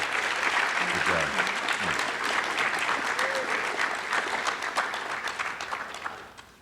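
A crowd at a hometown key-to-the-city ceremony applauds in a long, dense roar of clapping. Voices briefly rise over it early on, and the clapping tapers off toward the end.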